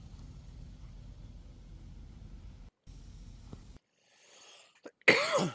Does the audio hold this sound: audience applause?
no